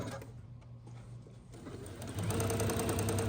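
Longarm quilting sewing machine stitching a line to close a channel on quilt leaders, a steady mechanical whir that speeds up into a louder, faster rhythmic hum partway through.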